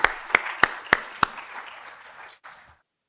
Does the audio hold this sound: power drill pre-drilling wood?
no